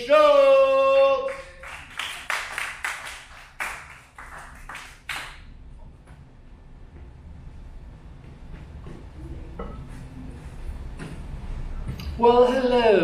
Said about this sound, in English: Let's hear a big round of applause for Captain America